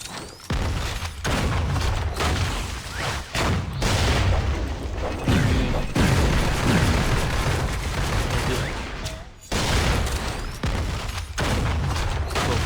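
Rapid, overlapping explosions and gunfire-like blasts from Deadpool's powers in the Marvel Heroes Omega video game, loud and nearly continuous with a few brief gaps.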